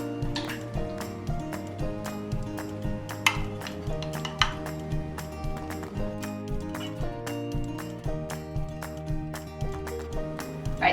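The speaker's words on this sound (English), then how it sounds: "Now I'm gonna scoop on the green bean casserole." A spoon scoops green bean casserole onto cheese in a baking dish, with soft scraping and clinks of utensil on dish over steady tonal background music.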